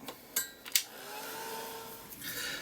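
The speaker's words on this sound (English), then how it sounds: "Bring on the heat gun." A heat gun drying a mixed media art journal page: a few sharp knocks and clicks as it is picked up, then a steady, close blowing whoosh that rises slightly near the end.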